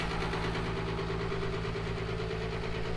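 A Ford F-350 Powerstroke diesel idles outdoors at about 5 degrees in a Minnesota winter on number 2 fuel, a steady, loud, close rumble with a fine knocking texture throughout.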